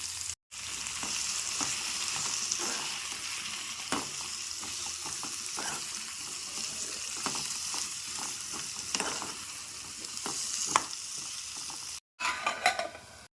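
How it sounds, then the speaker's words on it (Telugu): Curry cooking in hot oil sizzles steadily while a spoon scrapes and stirs it in the pan at irregular intervals, close and moderately loud, with two brief dropouts and no talking. "మధ్య మధ్యలో కలుపుకుంటూ ఉండాలి"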